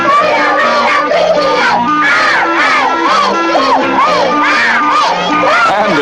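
A squad of children cheers at a soccer match for 8-year-old players, chanting loudly in rhythmic, sing-song shouts that run without a break through the whole clip, close and full.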